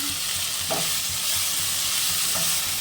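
Telakucha greens are stirred in a frying pan after the lid comes off: quick, rhythmic scraping strokes over a continuous close sizzle, with no voices.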